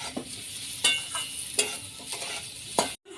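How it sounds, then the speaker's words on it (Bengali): Shol fish with salt and turmeric sizzles in a pan as it is stirred, with a steady frying hiss and regular scraping strokes close by. "এবার কিছুক্ষণ একটু নেড়ে নেব।"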